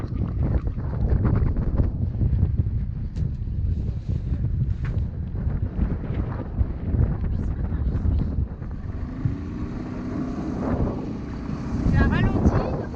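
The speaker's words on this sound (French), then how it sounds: "Il y a pas mal de vent" Steady wind buffets the microphone aboard a sailboat anchored in a cove off Ibiza, a loud continuous rush with water sloshing and a faint drone from the boat's engine joining late.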